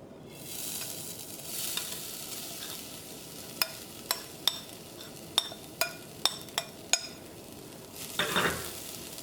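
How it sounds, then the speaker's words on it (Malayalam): Grated coconut is stirred and heated in a hot pan: a soft dry sizzle runs underneath while a spoon clinks sharply against the metal about a dozen times in an irregular rhythm, close by. "ഈ തേങ്ങ നന്നായിട്ടൊന്ന് ചൂടാക്കിയിട്ട് ഈ തേങ്ങയുടെ ഉള്ളിലുള്ള വെള്ളമൊക്കെ ഒന്ന് ഡ്രൈ ആയിട്ട് വരണം"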